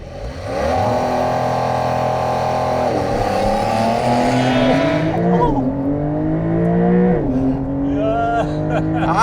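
A Kia EV6 GT launches hard under launch control in Sport Plus mode, its loud synthetic engine tone climbing in pitch in repeated stepped surges, like gear shifts, over about nine seconds.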